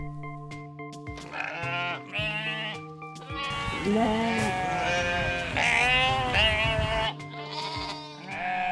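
Sheep bleat in several drawn-out, wavering calls, loud and close. Music or other sounds join in the middle of the clip.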